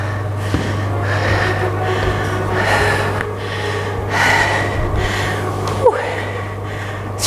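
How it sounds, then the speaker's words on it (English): Deep, heavy breathing follows an exercise round in a fitness workout, with repeated loud inhales and exhales in an even rhythm over a low steady hum. "Nice deep breaths."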